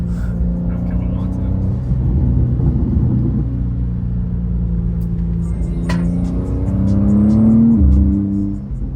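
A BMW M car engine revs hard while drifting on a wet road in the rain, a loud continuous drone from inside that rises and falls, climbing near the end, with a voice speaking over it.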